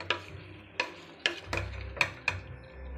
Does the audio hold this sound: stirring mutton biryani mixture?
yes